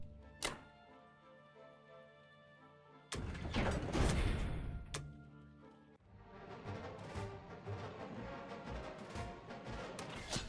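A bombing raid on Germany in the Axis and Allies 1942 strategy game plays out as a sharp thunk, then a loud burst of explosive rumble with a second impact, followed by a steady din of game battle noise.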